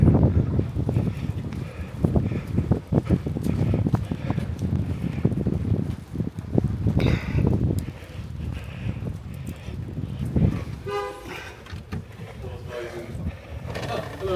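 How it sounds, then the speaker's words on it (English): Steady wind buffeting outdoors in wet, windy weather with a gusty rush, someone talking over it nearby, and brief rattling near the end, in Dingle, Ireland. "It's getting seriously wet and windy out here"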